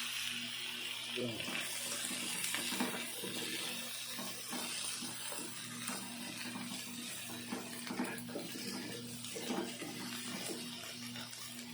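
Tap water pouring into a pot for chicken tinola broth, a steady continuous rush that holds throughout, with faint talk underneath.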